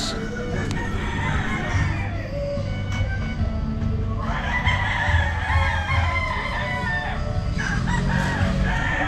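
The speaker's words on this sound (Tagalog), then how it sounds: "yung mga manok na dala nila" Chickens cluck and squawk continuously nearby, with a rooster crowing partway through amid a busy, noisy background.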